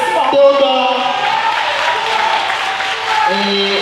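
Applause at a festival talent show at the University of Lomé as third place is announced, moderately loud clapping running under sustained musical tones and a voice over the crowd.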